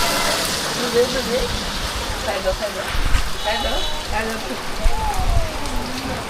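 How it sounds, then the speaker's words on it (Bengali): Heavy rain pours down in a dense, steady roar of drops hitting surfaces nearby, with people talking over it now and then. "সকাল নয়টা বাজে থেকে যে বৃষ্টি শুরু হয়েছে থামার নাম নাই"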